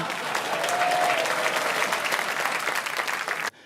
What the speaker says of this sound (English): Please put your hands together for Craig Levein.